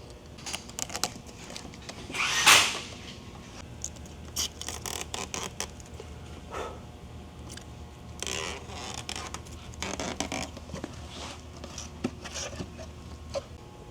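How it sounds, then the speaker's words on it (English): Double-sided tape being peeled off carbon fiber body kit pieces for a 2024 Acura Integra Type-S, heard as a run of soft, close scratchy rips and rustles, with one louder tearing burst early on and quieter scraping throughout. "Just peel the double-sided tape."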